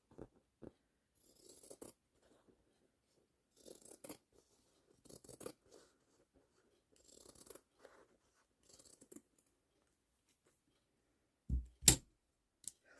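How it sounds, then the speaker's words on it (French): Scissors are cutting wax print fabric in a series of quiet, separate snips and rustles with pauses between them, followed by two louder clacks near the end. "Et là, on coupe."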